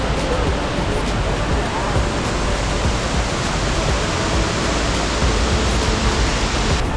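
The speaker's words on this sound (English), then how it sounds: "Now we are going to the waterfall." A jungle waterfall in North Bali, on the Sekumpul day-trip route, gives a dense, steady roar of falling water that fills the whole stretch evenly, loud and close with no clear talk.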